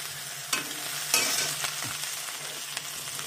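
Oil sizzles steadily as curry leaves fry, with a few sharp clinks and scrapes of a spoon stirring, no voices.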